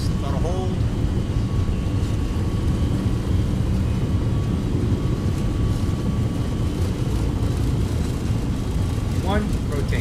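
Boeing 757 jet engines spool up to takeoff thrust in the X-Plane 12 flight simulator, a steady loud broadband roar and rumble held throughout, with brief tonal chirps near the start and end.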